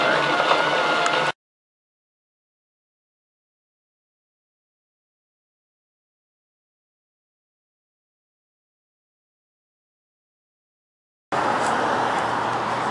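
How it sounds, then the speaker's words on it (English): Steady highway traffic roars past near a park, a broad continuous rumble that is heard briefly at the start and again at the end with a long stretch of silence between. "I don't know if you can hear me for the traffic on the highway here."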